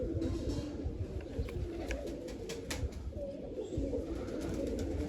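Domestic pigeons coo in low, throaty rolls, overlapping calls repeating steadily through the clip at close range with faint background noise.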